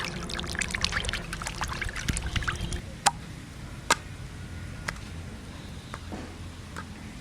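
Water is poured and trickled over food being washed in a kitchen, a steady splashing wash with a few sharp drips and clinks near the end, close and moderately loud.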